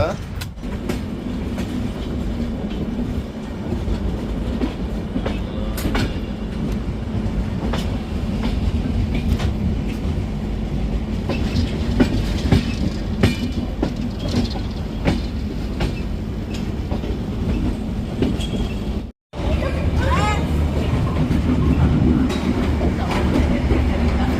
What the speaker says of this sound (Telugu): ట్రైన్ పోవడం అయితే చాలా ఉందండి చాలా పెద్ద ట్రైన్ అనమాట